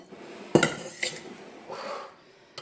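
Cutlery and dishes clatter together during meal prep with leftover pantry food: a sharp, close burst of clinks and knocks, then a softer clatter, a shuffling scrape, and one last small clink, with no talking.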